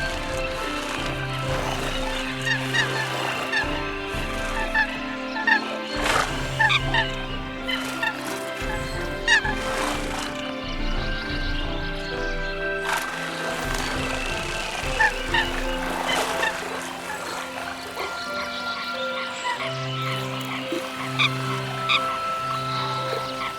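Eurasian coots call in a marsh during a nature documentary, with repeated short honking notes in bursts over a busy background of other birds and rippling calls, fairly loud and steady throughout.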